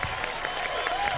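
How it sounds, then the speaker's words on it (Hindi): Brief burst of continuous applause from a studio audience on a Pakistani game show, dense and even throughout with a faint murmur of crowd noise. "तालियां बजाएं आप लोग अपने लिए"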